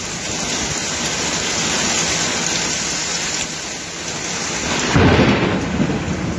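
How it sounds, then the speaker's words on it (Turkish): Steady heavy rain from a downpour pours throughout while deep thunder rumbles, swelling louder near the end with a low rolling boom. "Sayın seyirciler duyabilirsiniz gürler"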